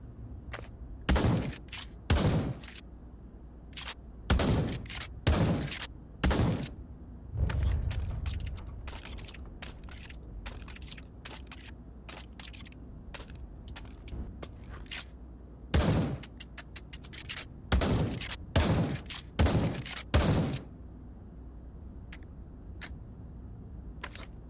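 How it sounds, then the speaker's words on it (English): Shotgun blasts at a firing range in the VR shooter Pavlov VR, a string of loud, sharp single reports spaced irregularly in clusters, each followed by short mechanical clacks of pumping and reloading, with no talking. "Shotgun."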